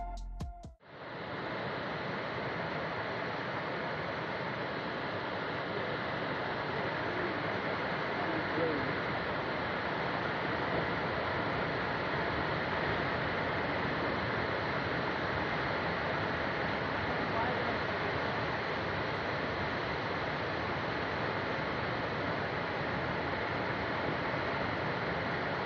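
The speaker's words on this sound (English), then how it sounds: "You can hear the water roar angrily and echo around the valley" Floodwater after heavy rain and a landslide in Chitral, Pakistan roars continuously through a valley, a dense, steady rushing wash after a brief opening knock, holding loud and unbroken throughout.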